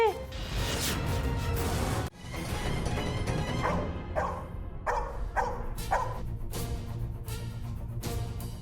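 A dog barks in a run of sharp, separate woofs, fairly close and loud, after a crash at the start, in a tense household scene.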